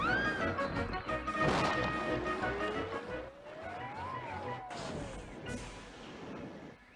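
Thomas the Tank Engine brakes with a long rising and falling squeal, then crashes into a muddy pond amid loud smashing and clattering impacts, close and busy from start to finish.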